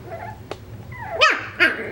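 A Coton de Tulear puppy whimpers and yips in two or three short, high whines, close by in a quiet room.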